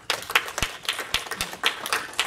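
A church congregation claps in a loose, uneven patter of individual hands, with a few sharp, distinct claps standing out near the front, moderately loud and without talk.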